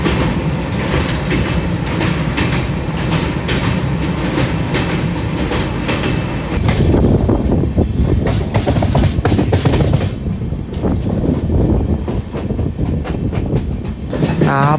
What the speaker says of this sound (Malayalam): നമ്മുടെ ശബരി എങ്ങനെ 130 km/h പറക്കാൻ തുടങ്ങിയിരിക്കുകയാണ് കേട്ടോ